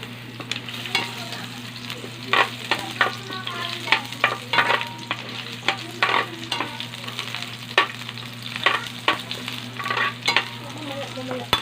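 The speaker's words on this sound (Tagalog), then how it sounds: "Lalagyan natin ulit ng mantika. Mama saka ilalagay natin yung sibuyas." Onion frying in oil in a pan, with a steady close sizzle and repeated sharp scraping stirs of a utensil against the pan across the whole stretch, no talking.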